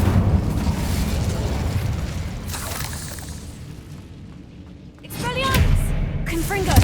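An Incendio fire spell in Hogwarts Legacy roars as a rumbling whoosh of flame, easing off before a fresh burst surges back with game voices calling out over it.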